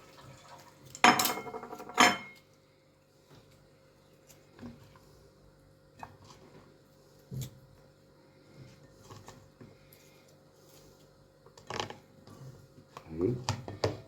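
Potatoes being turned over in a metal pan, giving a few loud metallic clanks and scrapes of a utensil against the pan, with quieter handling noises between them and someone talking intermittently.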